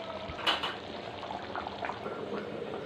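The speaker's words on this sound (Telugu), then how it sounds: "చూద్దామండి, ఉడుకుతుంది." Fish curry made with karamelu fish bubbles steadily in a pot, a soft continuous simmer with a few brief clinks near the start, close and moderately quiet.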